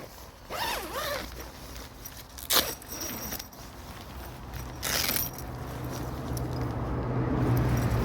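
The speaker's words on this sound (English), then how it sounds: "let's get it unzipped and have a look at the poncho idea, the shelter" A YKK zipper on a One Tigris Transformer poncho shelter being pulled open in a couple of quick rasping strokes, fairly close, with soft rustling and handling noise around it.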